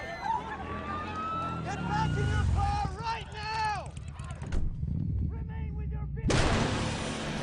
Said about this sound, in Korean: 시내 중심가에서 큰 폭발이 일어나고 모든 사람들은 패닉에 빠집니다